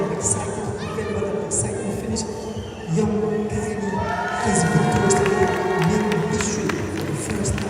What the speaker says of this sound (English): You can hear the roar of the crowd, the fans, the family members.